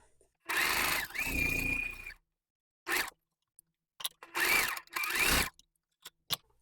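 A sewing machine stitches along the edge of an improv wonky house quilt block, its motor whirring in several short bursts with brief pauses between runs, close and fairly loud.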